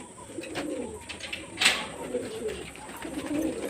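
Pigeons kept on a rooftop loft coo softly in the afternoon around feeding time, low rolling calls spread through a quiet background with a brief sharp noise midway.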